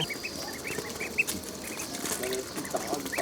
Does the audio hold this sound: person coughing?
no